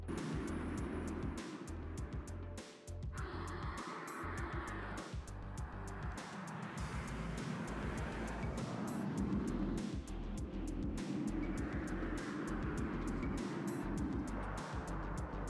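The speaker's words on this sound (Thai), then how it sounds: "ก็เป็นเสียงจากขุมพลังไฟฟ้าของ Godzilla EV หรือว่า Nissan Skyline GTR R32 ในเวอร์ชัน EV นะครับ" Electric drive of a Nissan Skyline GT-R R32 converted to EV power, heard as a steady, loud whirring drone with rolling road and wind noise running throughout, with no voices.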